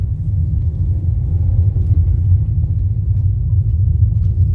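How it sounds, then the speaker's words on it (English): Cabin sound of a Ford EcoSport with its 1.5 Ti-VCT engine under hard throttle: a loud, steady low rumble and drone that holds constant with no voices. "You can feel the grunt inside the cabin when you press the throttle hard"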